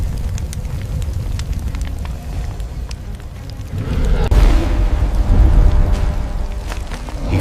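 Roaring flames from a line of fire drawn to fend off a wild animal, a steady crackling rush that grows louder and fuller about halfway through, with no voices.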